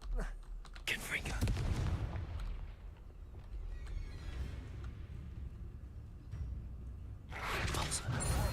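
A Confringo fire spell from Hogwarts Legacy bursts with a loud, crackling blast near the start and another toward the end, over rumbling game ambience and a voice.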